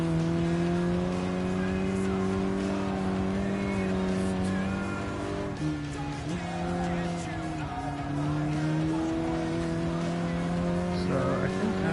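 A race car in Gran Turismo Sport laps a test track originally designed by Lotus, its engine droning loudly and steadily with brief pitch dips at gear changes or corners, under faint tire noise.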